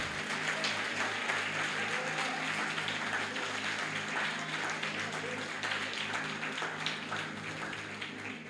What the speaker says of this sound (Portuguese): Se é para ele, pode aplaudir.